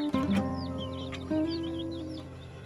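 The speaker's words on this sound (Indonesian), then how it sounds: "Ini anakan ayam baru berusia 1 bulan." One-month-old chicks at a simple breeding coop peep in short high chirps over a low steady hum, with a few clucks from other chickens nearby.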